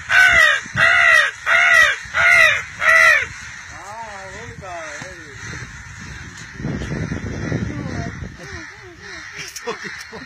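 Five loud, evenly spaced caws from crows near a tree ring out close by, then give way to fainter voices and scattered background sounds.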